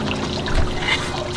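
Water pours steadily over soil around a newly planted David Austin rose in a backyard garden, a soft continuous trickle close by lasting the whole moment with no talking.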